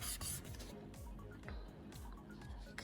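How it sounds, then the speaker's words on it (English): A holographic resin die is sanded lightly by hand where the sprue was, giving soft, close, rhythmic rasping strokes repeated every half second or so, quiet and without talk. "I'm just going to lightly sand where the sprue is"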